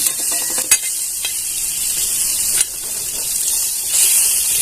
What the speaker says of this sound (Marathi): भेंडी घालून घ्यायची आता भेंडी छान अशी परतून घ्यायची